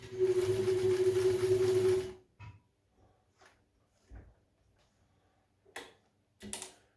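A Kenmore 540 vintage sewing machine runs a short burst of stitching, a steady close whirring hum for about two seconds, followed by quiet with a few small clicks and knocks of handling.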